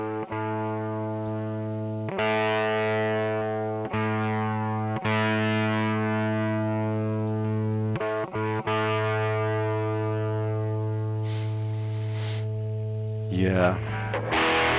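Electric guitar run through a distortion effect programmed on a Sigma DSP ADAU1452, holding a steady sustained distorted chord with a few quick re-strikes, loud and continuous, ending in a brief burst of noisy scraping.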